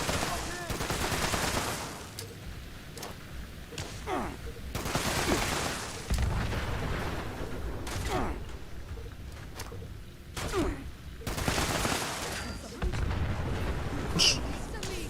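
Repeated gunfire in the Fallout 76 video game, loud sharp shots and bursts spread across the stretch, some booming, with quieter gaps between volleys.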